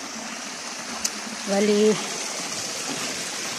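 Stream flowing through a cool, forested spot, heard as a steady broadband wash of water, fairly close, with a brief voice speaking over it midway.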